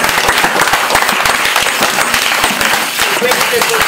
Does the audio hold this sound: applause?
yes